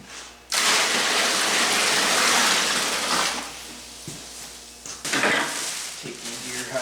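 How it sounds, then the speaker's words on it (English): Cold water gushes and splashes into a container while a deer hide is being tanned, starting abruptly, then running steadily and loudly for a few seconds before tapering off and returning in a shorter burst. "Now we'll add some cold water."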